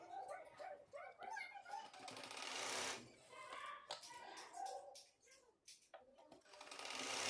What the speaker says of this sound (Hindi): इस तरह से अब मैं नेपे के ऊपर की सिलाई लगाऊंगी इस तरह से।